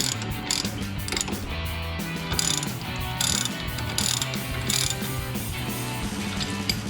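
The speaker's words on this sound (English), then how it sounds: "Now grab your ratchet with your 21mm" A ratchet fitted with a 21mm socket tightens the brake caliper bolts on a 2008-2021 Dodge Challenger during a PowerStop Z26 brake kit install, giving a close, steady stream of rapid metallic clicks that continues throughout.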